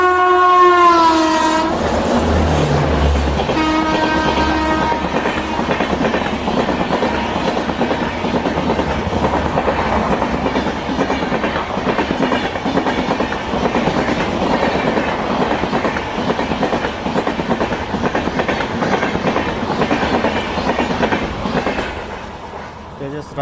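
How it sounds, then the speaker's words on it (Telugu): The Tejas Rajdhani Express passes close and loud, opening with a long blaring horn, then a sustained rumble and rhythmic wheel clatter over rail joints that fades slightly at the end. "తేజస్ రాజధాని ఎక్స్ప్రెస్"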